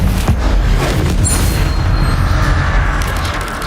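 An Incendio fire spell cast in a wizarding video game, a heavy low booming whoosh of flame that rumbles continuously and loudly through the moment, with a brief high shimmer near the start.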